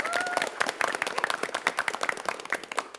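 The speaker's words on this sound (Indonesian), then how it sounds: "boleh kita berikan tepuk tangan untuk Regu A terlebih dahulu dong" Studio audience applause for a competing team on a televised school quiz show, a steady patter of many hands clapping that stays even for the whole stretch, with a brief tonal sweep near the start.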